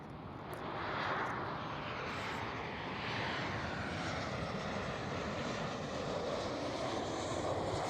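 A Boeing 737 arriving at Amsterdam Schiphol, a steady broadband engine roar holding at fairly even loudness throughout, with a faint rushing hiss above and no voices.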